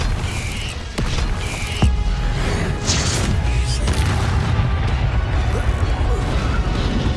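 Confringo spell blasts in Hogwarts Legacy land as a few sharp booms and crashing impacts, spaced irregularly over a steady bed of game ambience.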